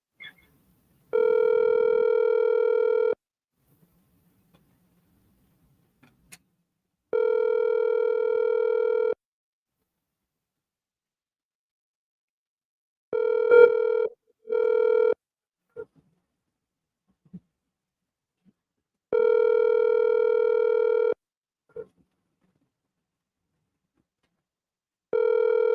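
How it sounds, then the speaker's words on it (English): A phone line rings back over a call in long, steady tone bursts separated by silent gaps, clear and prominent, with a couple of brief clicks in between. "Is it ringing? It ringing."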